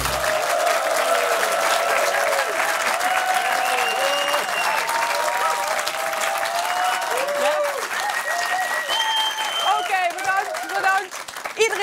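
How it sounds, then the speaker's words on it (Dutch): Audience at a show in the Netherlands clapping and cheering loudly, with whoops and shouts over sustained applause, and a voice talking over the crowd near the end. "heel erg lawaaierig publiek gelukkig"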